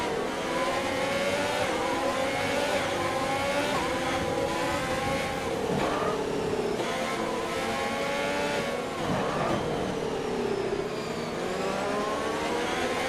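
Racing engines in F1 2020, heard during a wet race: a continuous, loud layered engine drone that rises and falls as the cars accelerate and shift gears while running close together, with no talking.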